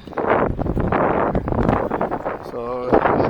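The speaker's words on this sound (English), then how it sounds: "So it's pretty windy." Strong wind buffets a microphone on a fishing boat running along a wall on a windy May day at the Forebay, a steady broadband roar throughout with someone talking over it.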